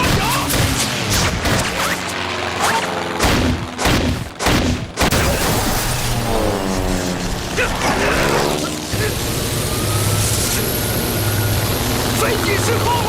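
A warplane losing control in a war film battle scene: a loud, continuous roar of engine and propeller mixed with mechanical clatter and bursts of gunfire, with a voice speaking over part of the din.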